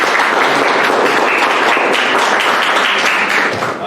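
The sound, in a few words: audience applause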